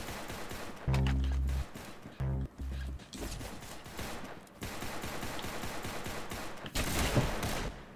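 P250 pistol gunfire in the Roblox game Arsenal: loud shots in bursts come in the first seconds, then more scattered firing and impacts follow amid other game noise.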